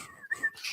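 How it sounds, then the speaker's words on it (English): A person whistles a short, wavering tune by the water, soft and fairly close, a few quick warbling notes with no talk. "He whistled."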